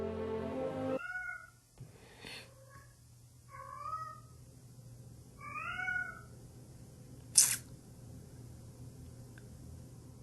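A house cat meows several times in short, drawn-out calls spaced a second or two apart, fairly close and clear in a quiet room, with a brief sharp click partway through.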